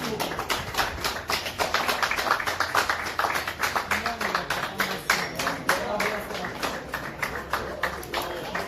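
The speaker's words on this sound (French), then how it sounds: "C'est parti, on applaudit tout fort." Guests at a civil wedding ceremony applaud warmly, steady dense clapping from a crowd that carries on for several seconds while a voice speaks over it.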